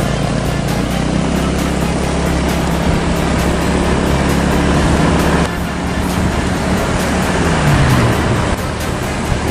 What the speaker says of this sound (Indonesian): Suara mobil-mobil atau mungkin motor, dan air hujan, itu juga angin